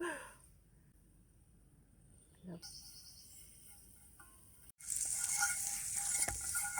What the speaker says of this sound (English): Oh, hear it sizzle.